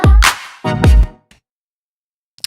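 A stretched-out Mario video game entering sound effect with a slight upward bend, heard as two close, loud swooping bursts followed by a few faint blips after a pause.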